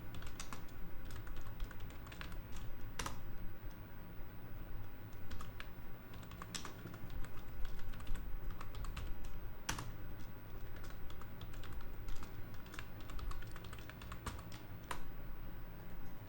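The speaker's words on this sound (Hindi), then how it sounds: "enter full name Bill Gates" Steady typing on a computer keyboard, a continuous patter of soft key clicks with occasional louder strikes, heard alone at low level.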